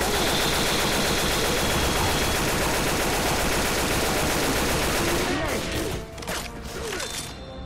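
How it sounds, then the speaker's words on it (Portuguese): Sustained gunfire in the video game Left 4 Dead 2: a loud, dense stream of rapid automatic shots that hammers on without pause, then thins into scattered bursts and crashes near the end. "os caras estão atirando pro teto, velho"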